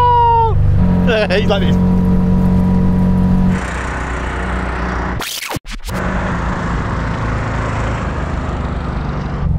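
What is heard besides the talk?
car engine accelerating in a drag racing video game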